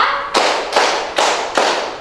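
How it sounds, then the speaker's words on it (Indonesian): Four sharp, loud hand claps ring out at an even pace in a classroom counting game, each with a short decay into quiet before the next. "Tepuk 1, tepuk 2, tepuk 3, tepuk 4"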